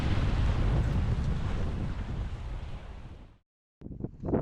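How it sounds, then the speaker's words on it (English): Wind gusts buffet the microphone aboard a Westerly Seahawk 35 sailboat at anchor, a loud steady roar that cuts out abruptly near the end before brief bursts return. "Still a little bit breezy in here"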